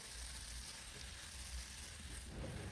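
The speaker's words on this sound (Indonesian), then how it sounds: "Kemudian diaduk-aduk kembali ya semuanya sampai tercampur." Javanese fried noodle ingredients stirred in hot frying oil give a steady, close sizzle and crackle with faint scraping from the stirring, continuous and alone without talk.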